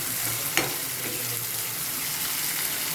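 Green chillies and onions fry in hot oil, a close, steady sizzle with a brief stirring scrape near the start.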